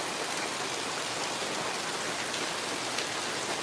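Heavy, unceasing rain falling late at night, a dense and steady wash of rainfall on surfaces close by with no speech.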